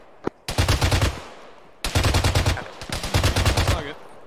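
Gunfire in the ArmA military video game: three sustained bursts of rapid automatic shots, loud and close, with a single earlier shot and brief pauses between bursts, and no voices.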